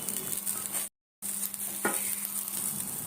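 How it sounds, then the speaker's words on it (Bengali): Potato tikkis shallow-fry in ghee in a pan with a steady, close crackling sizzle. The sizzle cuts out for a moment and then resumes, and a brief scrape of turning is heard partway through. "এইভাবে উল্টে পাল্টে আলু টিকিয়াগুলো আমি শ্যালো ফ্রাই করে নিচ্ছি"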